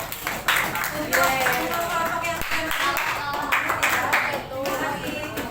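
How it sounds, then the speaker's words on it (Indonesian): A classroom of students clapping together after a presentation, a busy burst of hand claps with a voice speaking over it. "Tepuk tangan dulu."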